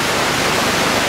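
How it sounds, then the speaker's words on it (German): Broadband white noise from an electronic music piece, a steady, dense hiss filling the whole range and holding at an even, loud level for about a second, with no voices. "das den ganzen Hörbereich ausfüllende weiße Rauschen"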